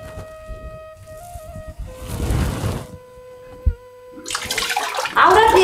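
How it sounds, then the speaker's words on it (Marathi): Running water as hands are washed at a tap indoors: a close burst of splashing flow mid-way, then a louder rush of water near the end, with quieter pauses between. "स्वच्छ हात धुवून."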